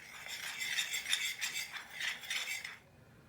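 A spoon or whisk stirs chicken pakora batter with curry powder and fenugreek in a bowl, a steady scraping rattle in quick rhythmic strokes, close and fairly quiet, stopping abruptly at the end.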